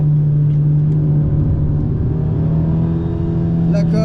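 Inside a car on a racing circuit during a driving-coaching session, the engine holds a loud, steady droning hum that pulls under throttle with little change, close and continuous throughout.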